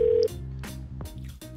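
A telephone line's steady dial tone cuts off, followed by a quick irregular sequence of keypad dialing beeps, each short electronic tone separated by brief gaps.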